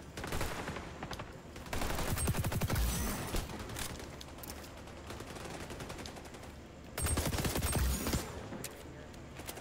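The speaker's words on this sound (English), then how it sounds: "The old three-round burst." A PP19 submachine gun in XDefiant fires three-round bursts, with clusters of rapid close shots that hit hardest around two seconds and again near seven seconds, over quieter background game noise.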